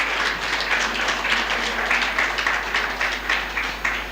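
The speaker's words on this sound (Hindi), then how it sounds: "अपने स्वागत में हम सभी जोरदार तालियां बजाएंगे तो अच्छा रहेगा" An audience at a Brahma Kumaris Mother's Day gathering in Jai Vihar, Delhi, claps steadily, a dense loud wash of many hands sustained throughout without any voices.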